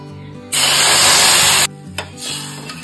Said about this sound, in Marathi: आपण त्यानंतर त्यामध्ये दूध टाकून घेऊया